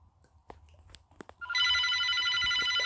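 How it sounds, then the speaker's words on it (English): A telephone rings steadily and loudly in a video game, its ringing tone starting abruptly and continuing unbroken after a few scattered clicks and soft low background sounds, with no talking. "the phone is ringing"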